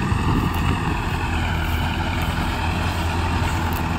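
A Farmtrac 6055 tractor with a harvester mounted on it idles close by, giving a steady, loud low engine rumble with a constant hum and no breaks.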